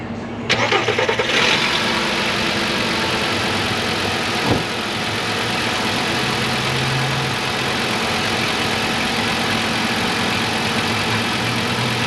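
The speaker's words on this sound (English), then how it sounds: "let's go ahead and fire it up." A 2010 VW Beetle with the 2.5 engine cranks briefly and catches, then settles into a steady, close idle with a continuous even hum and no voices.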